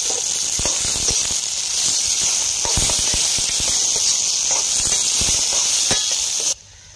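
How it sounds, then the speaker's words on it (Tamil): Chicken curry and torn parotta sautéing in a smoky pan, a steady loud hiss with scattered sharp crackles and scraping taps running throughout, cutting off abruptly near the end. "எல்லாத்தையும் நல்லா வதக்குவோம்."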